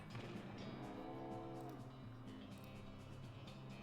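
A cow in the video game West of Loathing gives a single drawn-out moo that rises and fades over a steady low background hum, fairly quiet and with no talking.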